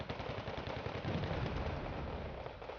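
Dense, continuous gunfire from Wargame Red Dragon combat, a steady crackle of close-range small-arms shots layered with heavier thuds, moderately loud and sustained without talk.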